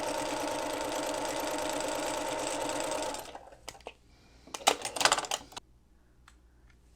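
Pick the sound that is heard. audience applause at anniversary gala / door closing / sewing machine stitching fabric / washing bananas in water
sewing machine stitching fabric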